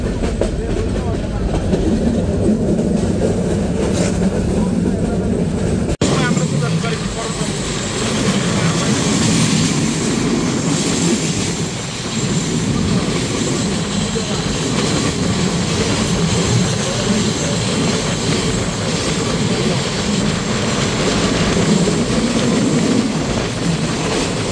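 Paharika Express train running on a winding hilly railway between Chattogram and Sylhet, heard from inside: a loud, continuous rumble and rattle with faint clickety-clack throughout, no clear talk.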